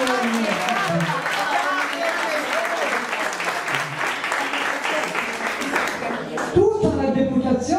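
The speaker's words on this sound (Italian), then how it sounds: "Un applauso alle donne." Sustained audience applause at a women's day celebration at a social club in Trabia, dense steady clapping from a crowd for several seconds, then a voice starts talking over the fading claps near the end.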